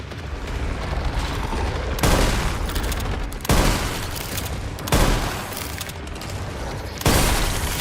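Loud shotgun blasts in a video game, heavy booming shots spaced a second or two apart, each followed by a short ringing tail, with no talking.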